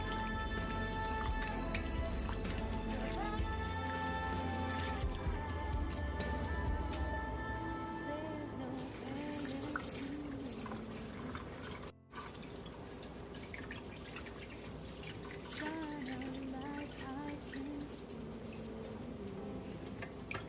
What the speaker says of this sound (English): So I'll keep washing the rice until all the dirty water is out.